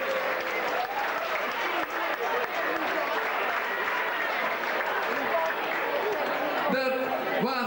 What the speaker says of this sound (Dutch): Oh, daar een applaus.